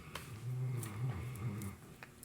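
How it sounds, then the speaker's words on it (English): A dog named Diesel snores close by, a steady low rumbling drone with soft rises and falls across the whole stretch, faint overall with no talking. "Sorry if you can hear my dog snoring, Diesel."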